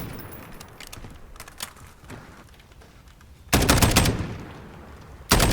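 Automatic gunfire in a Call of Duty game while aiming down sights: short clattering bursts at first, then a loud sustained volley of rapid shots and a final burst, close and dominant.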